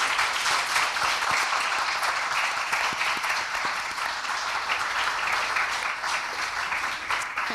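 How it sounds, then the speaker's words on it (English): Sustained audience applause for authors on stage at the Macondo literary festival, a dense, steady wash of many hands clapping at constant loudness throughout, close and full, with no talk over it. "give a beautiful round of applause for these wonderful authors"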